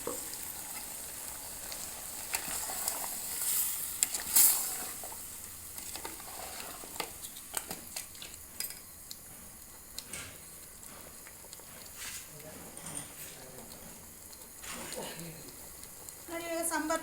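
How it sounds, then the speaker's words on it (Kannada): A ground sambar paste of coconut, cinnamon and cloves goes into a hot pan, setting off steady close sizzling and frying with scattered spoon scrapes and clinks, while a voice talks over it now and then. "ನೋಡಿ ಇವಾಗ ನಾನು ಸಾಂಬಾರು ರುಬ್ಬಿರೋದನ್ನು, ತೆಂಗಿನಕಾಯಿ, ಚಕ್ಕೆ,"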